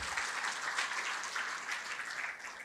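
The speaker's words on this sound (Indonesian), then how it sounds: "Yes, berikan tepuk tangan, jangan malu-malu." Audience clapping for a speaker at an Atomy marketing-plan talk, a steady dense patter of many hands at moderate distance, holding even for the whole stretch with no voices over it.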